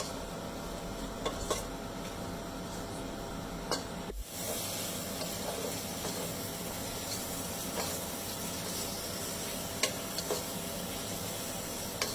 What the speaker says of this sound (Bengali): পেঁয়াজটা বাদামি হওয়া পর্যন্ত ওয়েট করি।